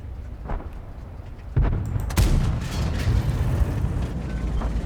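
Artillery impacts in World of Tanks, with a deep boom followed by a sharper loud blast and a rumbling low tail, fairly close and dominant, with no talk.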